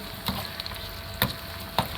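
Steady hiss of a tadka tempering frying in oil for moong dal khichdi, with a few sharp pops and crackles breaking through at intervals.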